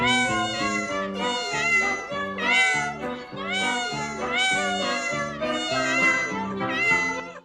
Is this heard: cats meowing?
yes